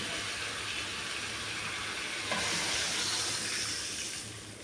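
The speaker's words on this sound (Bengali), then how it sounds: "তখন আমি এর ভিতরে পানি দিয়ে দেবো।" Water is poured into a cooking pot of chicken and potatoes, making a continuous broad splashing hiss with a light sizzle that fades slightly near the end, with no talk.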